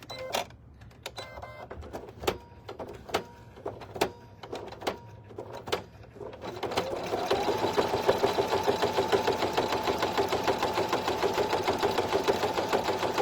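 An embroidery machine stitches the top of an in-the-hoop e-reader sleeve closed, starting with separate spaced clicks and thumps, then settling into a rapid, continuous mechanical whirring chatter.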